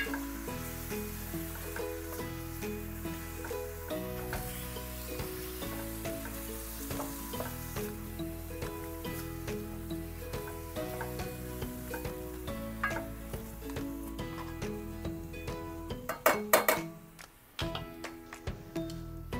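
Pork belly (liempo) sizzles and spits steadily in a hot pan for the whole stretch, with a brief burst of clattering near the end, over a continuous bed of background music; nobody speaks.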